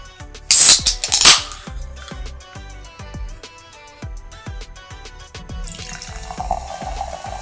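Liquid splashes briefly into a glass, then a steady rapid crackle of fizzing bubbles continues, ending with a hissing wash of sound.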